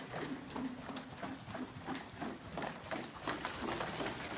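Hooves of a two-year-old American Quarter Horse being ridden, soft rhythmic clip-clop footfalls in a steady gait, fairly faint and close, with no talk over them.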